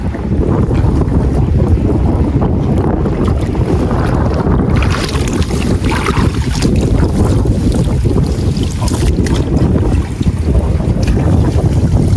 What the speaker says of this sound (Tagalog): marami yung hangin. Lakas na eh, kanina kalmado.